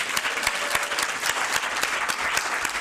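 A crowd at the 2015 ABC Awards applauds Kelvin Boston, a full, continuous roar of clapping with distinct sharp hand strikes standing out, steady and fairly close.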